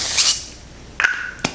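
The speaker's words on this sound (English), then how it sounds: "I'm gonna put a little bit of wax spray." Redken wax spray misted onto hair styled into a bun: a short hiss at the start, then two brief clicks or rubs near the end, close and clear.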